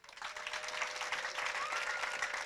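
A church congregation claps together in steady, dense applause that rises quickly and holds at an even, moderate level throughout, with no voices standing out.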